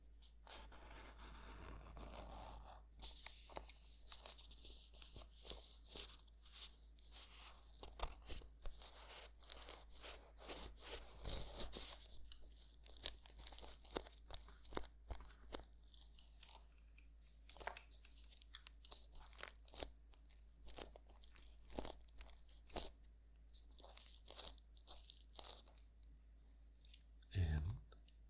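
Soft leathery zippered carrying case for a ModMic being handled up close, with dense crisp clicks and crinkly rubbing in quick irregular bursts, steady and close throughout.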